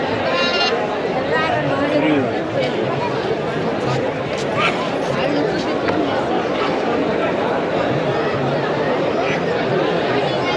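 Goats bleat repeatedly amid a busy crowd at the GKVK Krishi Mela agricultural fair, with overlapping voices chattering nearby throughout.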